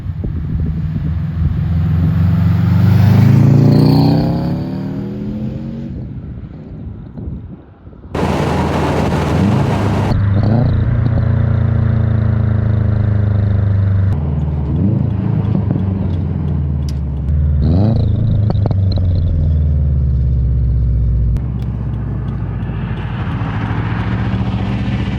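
A turbocharged car drives by outside on the road. Its engine rises through several loud, sweeping accelerations with a clear whining pitch, surging and fading as it passes near and then away, and no talk is heard.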